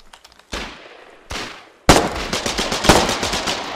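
Gunfire in the war video game Foxhole, a few separated shots building into rapid close bursts of automatic fire with sharp cracks and echo.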